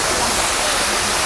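Waterfall in Munnar, Kerala, a loud, dense, unbroken roar of rushing water heard close up.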